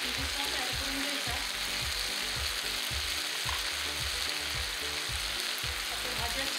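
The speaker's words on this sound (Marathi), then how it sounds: "आपल्या भाज्या छान शिजत आहेत, त्याचा सुगंधही खूप सुंदर येतो।" Vegetables for Manchurian frying in a pan with soy and chili sauce, a steady close sizzle throughout with a regular rhythmic scraping or stirring pattern underneath, no voices.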